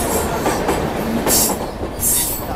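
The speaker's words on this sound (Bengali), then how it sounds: "আর ট্রেনটা কিন্তু এবারে বাঁক খাচ্ছে, বাঁক খেয়ে পাহাড়ের উপরে উঠছে" The Kolkata–Sairang Express passenger train rolls along a winding hill route in Mizoram, with a steady loud rumble, rattling carriages and sharp high wheel squeals on the curves, all close and continuous.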